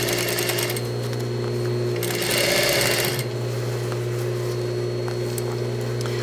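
A sewing machine runs steadily while stitching a fabric slipcover for a dining chair. Its even mechanical hum swells briefly louder in the middle before settling back, close and with no talking.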